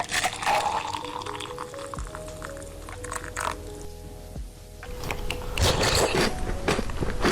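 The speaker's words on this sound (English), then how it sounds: "Time for matcha Oreo cereal." Crunchy matcha Oreo cereal topped with strawberries being eaten up close, with repeated bites and crackling crunches through the clip, steady and fairly loud, with no talking.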